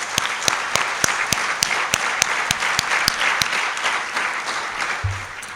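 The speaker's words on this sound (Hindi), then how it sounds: "तो हम सभी फिर से एक बार तालियों से इनका स्वागत करेंगे।" Applause at a Panchgavya conference in Dwarka welcoming a guest: a steady wash of audience clapping with sharp regular claps standing out, moderately loud and continuous before easing off at the end.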